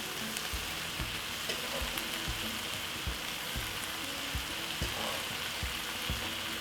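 Rice tossed into a hot pot for Chinese New Year stir-fried rice crackles with a steady, dense sizzle, punctuated by regular clinks and scrapes of stirring throughout, close and fairly loud with no talking.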